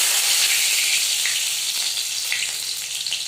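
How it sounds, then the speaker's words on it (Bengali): Chopped garlic sizzles in hot oil in a pan where paneer was just fried for chilli paneer, a steady close crackle and hiss with small bursts of spatter and no voices. "আমি রসুন কুচিটা দিয়ে দিলাম"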